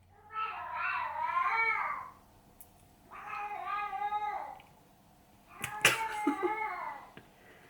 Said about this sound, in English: Oh, it's my cat. She sounds like she's being strangled.